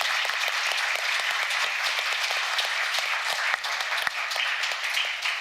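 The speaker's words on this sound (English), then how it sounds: "please join me in giving them a big round of applause" An audience applauds at the Seoul Diplomacy Forum, a dense, steady wash of many hands clapping in a large hall, sustained and loud throughout.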